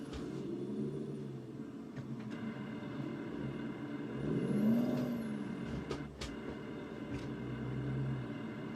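A Freightliner semi truck drives with steady engine rumble and hiss, its revs dipping and swelling as it downshifts with double clutching, a brief air-brake-like burst near the middle, heard up close from the cab.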